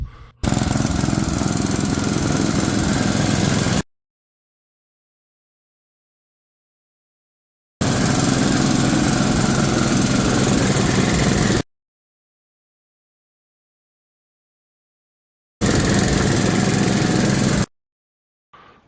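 A snowblower's small engine roars loudly in three long bursts, each a few seconds long, with complete silence between them.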